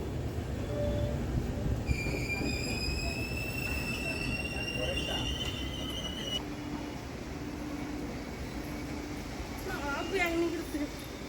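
A train at Jhargram railway station, heard as a steady rumble with high squealing wheel tones and metallic screeches, moderately close, over a constant background din of the platform.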